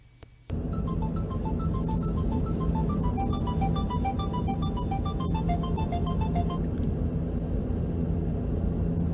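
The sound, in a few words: phone ringing on outgoing call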